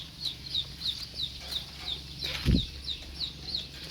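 Chickens cluck in a steady, repeating pattern at moderate distance, with a brief thump and flutter of wings midway as one jumps down, against a faint background hum.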